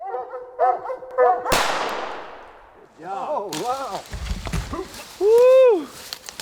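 Hunting dogs baying at a treed raccoon in Kentucky woods, several loud howling bays in bursts, with a sharp gunshot crack cutting in and a long close howl near the end.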